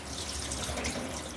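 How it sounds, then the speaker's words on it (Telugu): Salted soaking water is poured off raw chicken, a continuous close splashing rush of liquid draining steadily without pause. "ఆ నీళ్ళు మొత్తం వంపుకొని"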